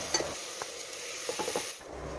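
Soaked rice and sambar dal are sautéed with spices in a pan, giving a faint, steady sizzle with scattered scraping stirs, close and quiet, with no voices.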